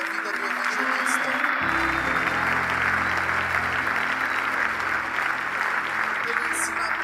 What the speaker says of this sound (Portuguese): continuem aplaudindo pela sabedoria, pela força